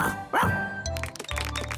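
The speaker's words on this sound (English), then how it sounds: "He rolls on his back and he barks a lot." Cartoon ladybird barking like a dog in a children's animated show, a few short yappy barks over music and background sound effects.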